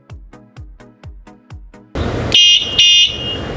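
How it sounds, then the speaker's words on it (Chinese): A GACRON V18 bicycle electronic horn sounds in short pulsed bursts, then shifts to loud sustained piercing tones with two strong high blasts, tested at increasing distances of one, three and five metres. "大家现在听到的声音分别是来自1米、3米和5米处的喇叭音量"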